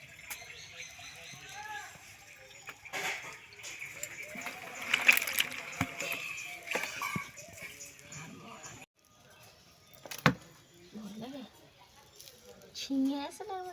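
Water splashes and spatters as it is poured out of a container holding fish, with ridge gourd among them, in a home kitchen; uneven splashing bursts rise and fall under nearby conversation.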